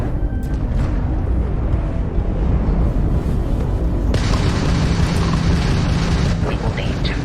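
A Crimson Fleet ship's weapons fire during ship combat in Starfield, loud booming blasts over a continuous rumbling roar, with a brighter burst of noise joining midway.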